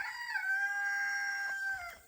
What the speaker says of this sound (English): Oh, I didn't know there's roosters over there.